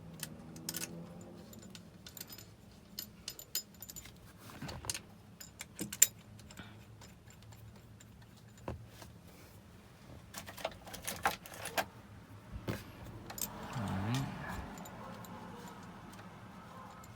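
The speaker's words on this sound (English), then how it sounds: "I'm gonna put these bolts back in." Bolts being put back into the shifter of a 2000 Ford F150, heard as scattered metallic ticks and clicks from tools and fasteners, fairly quiet and close, with no speech.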